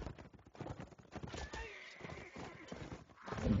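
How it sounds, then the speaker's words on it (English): Horse hooves clip-clopping as a mounted character dances about in a multiplayer video game match, with a brief whinny, heard under continuous commentary talk. "GK Lord Vidiger is doing a little dance there with his horse"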